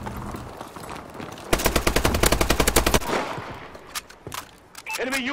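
Rapid automatic gunfire from an S12 in Call of Duty gameplay, a loud burst of evenly spaced shots lasting about a second and a half, followed by scattered lighter game sounds and footsteps.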